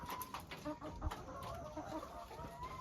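Chickens cluck softly in the background on a farm in Ukhrul district, amid steady outdoor noise, faint and continuous.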